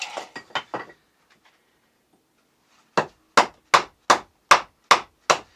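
Battoning rotten poplar with a stainless steel Canadian Tire Outbound paracord knife: a few quick light knocks, a pause, then a run of seven sharp, evenly spaced loud whacks close by, with no voices.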